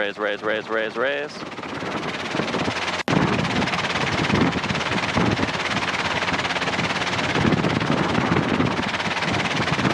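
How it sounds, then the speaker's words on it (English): A Robinson R22 helicopter flies in light wind with a loud, constant rotor and engine roar; a voice speaks briefly at the start before a sharp click. "Now keep the helicopter level."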